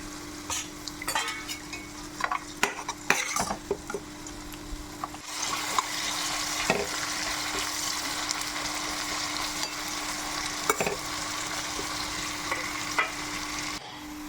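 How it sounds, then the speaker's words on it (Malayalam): Onions sizzling in hot oil for a Kerala-style beef biryani, a steady close frying hiss with scattered clicks and scrapes of stirring and no talk. "സവോള ഫ്രൈ ആയി വരുന്നുണ്ട്"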